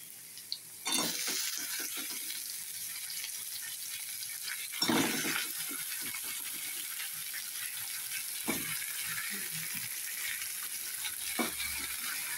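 Sliced ridge gourd sizzles steadily in a pan with ginger, a continuous hiss broken by a few louder bursts as pieces are stirred or added.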